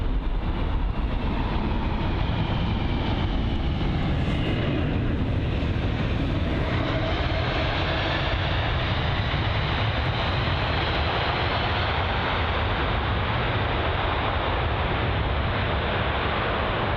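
A United Airlines Boeing 767-300 lands and deploys reverse thrust, a loud, close, sustained engine roar with a broad rushing texture that holds steady throughout.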